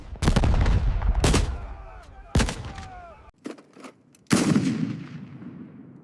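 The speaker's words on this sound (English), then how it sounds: "The naval gunfire seemed unlimited." Naval gunfire as a sound effect: several heavy booming shots, loud and close, each ringing out and decaying. Sharper cracks and a sudden drop to near silence follow, then another blast with a lingering roar.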